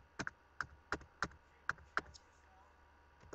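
A password typed on a computer keyboard to log into a MovieStarPlanet account: about nine sharp, close keystrokes in an uneven rhythm, quiet, with no talking.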